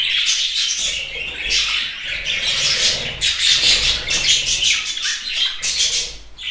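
Budgerigars kept in a cage chirp and squawk in a dense, lively chorus of rapid high chatter, close and loud throughout with no voices.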